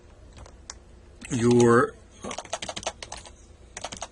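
Brisk computer keyboard typing in quick irregular bursts, close and fairly soft, with a short spoken word breaking in between the clicks.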